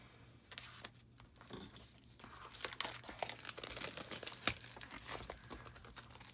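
Plastic and paper packaging of a paper craft card kit crinkling and tearing as it is opened, close and fairly quiet, with irregular rustles and sharp crackles and no talking.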